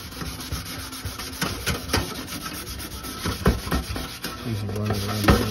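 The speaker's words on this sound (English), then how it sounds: "Give all your nice corners a nice little scrub and make them nice clean." Short bursts of scrubbing on the corners of a Statim 5000 Classic sterilizer cassette, a close, steady rubbing with an irregular rhythm and no talk.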